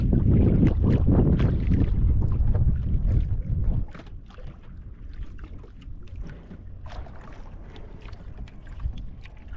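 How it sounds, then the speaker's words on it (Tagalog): Wind rushes and buffets around a fishing boat at sea, a strong steady roar for the first few seconds that then drops to a lower, gusty hiss, with no talk. "Kahit dito mga idol, ano pa rin, lusot pa rin yung yung hangin."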